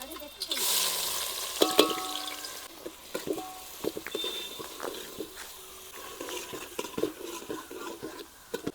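Onion and garlic fry in hot oil in a pan on a wood-fired chulha stove outdoors in a Konkan garden: a soft sizzle runs under repeated clinks and scrapes of a stirring spoon, with voices talking nearby.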